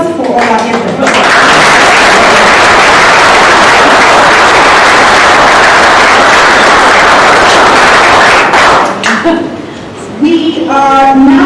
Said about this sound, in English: And now we can have a round of applause for all our efforts.